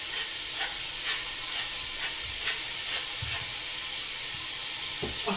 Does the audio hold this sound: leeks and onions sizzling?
yes